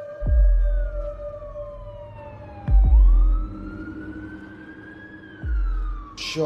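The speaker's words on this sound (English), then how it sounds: "we heard the sirens coming down the road" Emergency vehicle sirens coming down a village road outside a post office shop, a loud wailing tone sweeping up and down with repeated sharp low-frequency blasts between sweeps, no talk.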